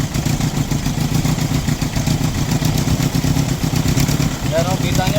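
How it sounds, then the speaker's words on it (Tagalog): A Toyota 2C diesel engine with hard starting and low power runs unevenly, its rhythmic clattering thump steady and loud up close, misfiring pulses running beneath someone talking. "namamalya po yung engine"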